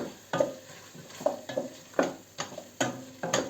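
Butter stirred and frying in a pot for Hutsul cabbage soup with beans: a steady close sizzle broken by repeated scraping stirs roughly every half second, with no talking.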